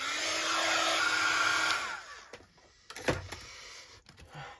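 A hair dryer blows steadily on a grungy junk journal background for about two seconds, then cuts off, leaving faint handling noises and a soft knock.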